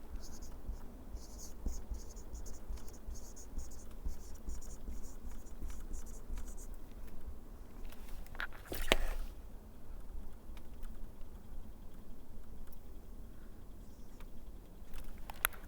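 Marker or chalk writing on a board, soft scratchy strokes in short bursts over a quiet room, with a louder scrape near the middle.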